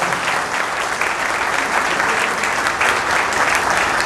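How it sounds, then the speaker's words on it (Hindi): Audience at a gathering at Ambedkar Bhavan in Delhi applauds steadily to welcome a speaker, a dense wash of many hands clapping at an even loudness throughout with no voices on top. "जोरदार तालियों के साथ उनका स्वागत करें"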